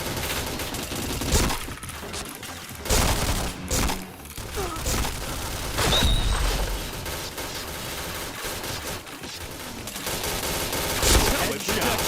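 Video game gunfire in rapid bursts and scattered single shots, with thuds and impacts in between, moderately loud over a busy game soundscape for about twelve seconds.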